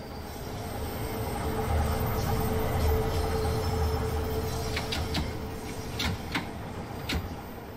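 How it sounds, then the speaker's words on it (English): Simulated 1972 Tube Stock London Underground train in Train Sim World 2, a continuous low rumble of wheels on track with scattered high squeals and clicks as it runs. "The trains that operate are the oldest on the network, taking their name from the year they were introduced, 1972 Tube Stock."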